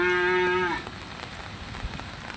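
A cow gives one long, loud moo while being led out to graze on a rainy day, followed by steady rain patter with no talking.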